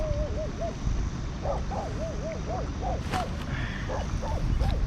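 Dogs yip and whine in repeated short, wavering calls, a little distant, over a steady background hiss.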